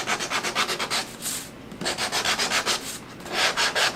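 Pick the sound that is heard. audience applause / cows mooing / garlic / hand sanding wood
hand sanding wood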